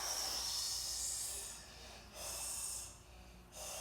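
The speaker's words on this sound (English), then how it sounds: "And slowly breathe out." A person breathes out slowly after holding their breath, several long airy hissing exhalations close to the microphone, with brief pauses between them.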